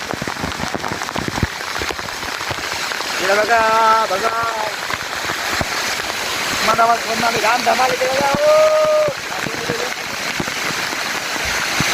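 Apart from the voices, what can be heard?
waterfall rushing water, Kokan waterfall near Mandangad-Vesvi road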